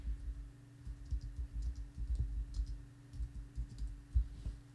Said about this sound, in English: if you start typing text in here